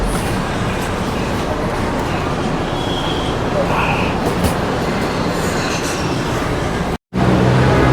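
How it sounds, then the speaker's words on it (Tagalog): Steady rumble of an LRT light rail train in motion in the Philippines, a loud continuous roar with faint rattling and a brief high whine, heard from inside the car. "Dito na ako sa LRT ngayon."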